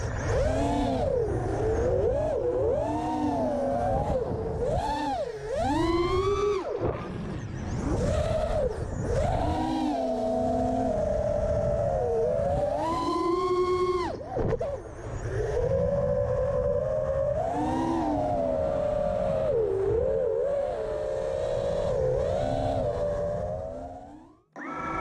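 FPV quadcopter drone on a RobotDog 35a ESC with a stock tune, motors whining continuously and loudly as the pitch rises and falls sharply through aggressive flying maneuvers, with brief dips near the end.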